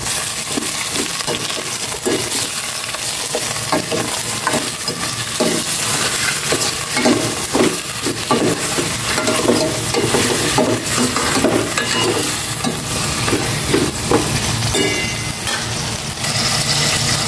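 Chicken wings fry loudly in a pan while being stirred for a chicken soup, with steady sizzling and repeated scraping strokes throughout, no voices.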